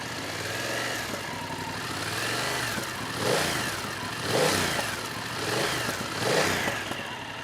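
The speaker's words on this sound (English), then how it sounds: "let's get the throttle sound." BMW F 900 R motorcycle engine idling steadily, then blipped with four short throttle revs that rise and fall in a regular rhythm, loud and close with no talking.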